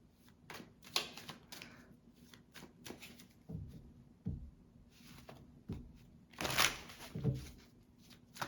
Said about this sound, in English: 3 cards for each one of these piles.